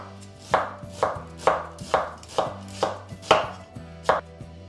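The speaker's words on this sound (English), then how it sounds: "I'm going to chop the onions into thin slices." Onions are chopped into thin slices on a board, eight crisp, evenly spaced knife strikes in a steady rhythm, close and clear with nothing else over them.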